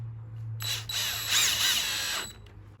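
A power drill drives small screws while installing a Schlage Camelot aged bronze entry door handleset, one short whirring burst of about two seconds, close up and alone.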